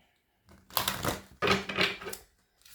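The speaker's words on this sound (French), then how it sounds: "Je vais prendre d'autres cartes." Playing cards being shuffled and drawn during a card reading, giving two bursts of crisp, riffling paper clatter close to the microphone, separated by a short pause, with no talk over them.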